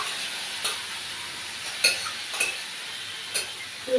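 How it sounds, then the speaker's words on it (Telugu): Coconut banana-flower curry being stirred in a frying pan: a steady soft sizzle runs throughout, broken by a few sharp scraping clicks of the spoon against the pan. "ఒకసారి ఇలా కలిపేసి, కొబ్బరి బాగా వేగాలని ఏమీ లేదండి, ఇది ఇలా కలిపేసి ఈ కూరని వేసేస్తున్నాను"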